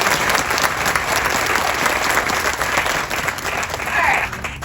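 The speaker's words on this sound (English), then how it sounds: "So let's give them a round of applause." Audience applause at an outdoor garden event, a dense, steady wash of many hands clapping at close range, with a faint high whine running underneath throughout.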